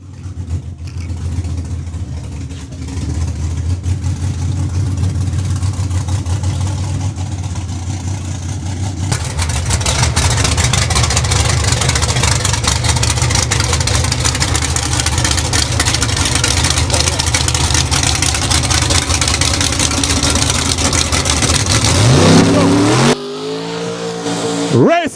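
Drag race car at the CDRA Racing Complex warming its tires and then accelerating down the track, a loud sustained engine roar that grows fuller midway, ending in a rising whine as it pulls away.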